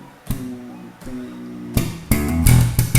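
Slap bass line played on electric bass in a beginner-to-intermediate slap lesson, with percussive thumb strikes landing in a repeating pattern, sparse at first and then denser and louder toward the end.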